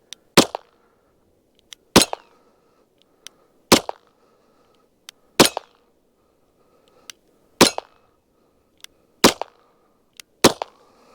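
Glock 43X pistol shots fired in a backyard at a steel Sterling wheel target, seven sharp loud reports spaced evenly about every one and a half to two seconds, each followed by faint quick metallic pings, with no talking.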